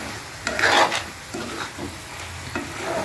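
Dhaniya chicken being stir-fried in a pan, a steady sizzle under repeated scraping strokes of the spatula, close and moderately loud.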